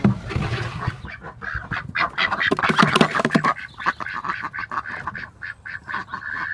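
Several ducks quacking in a loose, overlapping chorus, fairly close, with nasal calls repeating irregularly and no talking.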